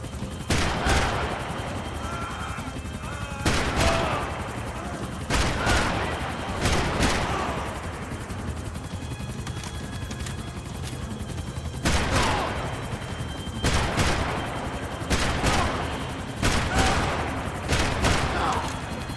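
Video game gunfire at enemies, in repeated bursts of loud automatic shots every few seconds and mixed with excited voices.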